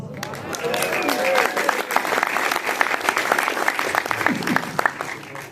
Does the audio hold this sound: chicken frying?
no